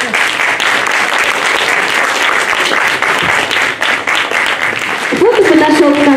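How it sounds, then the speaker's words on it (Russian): Concert audience at a year-end recital applauds warmly, a dense, steady wash of many hands clapping throughout, with a few voices and a brief musical tone rising near the end. "благодарим вас за улыбки и дружные аплодисменты"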